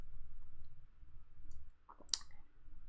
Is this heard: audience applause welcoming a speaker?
no